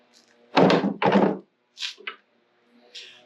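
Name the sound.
punch being driven through part held in vise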